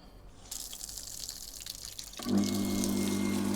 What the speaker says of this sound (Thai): จะเห็นว่าปั๊มน้ำทำงานนะครับ